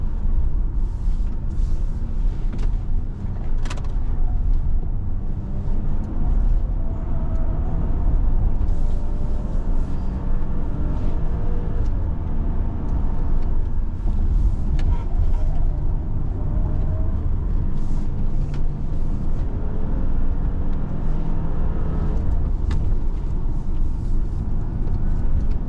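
A Volkswagen Touareg drives at night, its automatic gearbox shifting up by itself. A steady, loud engine and road rumble fills the cabin throughout, with no clear break at each gear change.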